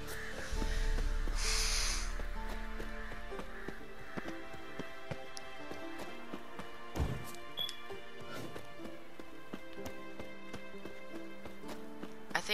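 Roach, the horse in The Witcher 3, snorts loudly up close, followed by scattered soft hoof clops over a quiet game soundscape.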